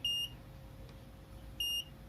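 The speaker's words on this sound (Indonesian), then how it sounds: "Indikator akan menyala merah dan buzzer akan berbunyi." Two short, high electronic beeps from a buzzer, spaced about a second and a half apart over a quiet background hum.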